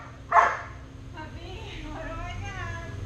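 A puppy gives one sharp, loud bark during a basic dog obedience class, followed by quieter whimpering sounds while people talk.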